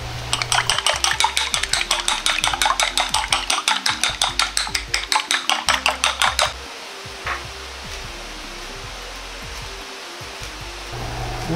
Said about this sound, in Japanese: 卵は大きめのボウルなどに入れ、